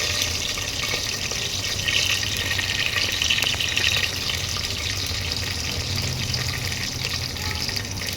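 Green chillies fry in a pan, giving a steady, fairly loud hiss and crackle that holds evenly from start to finish with no voices.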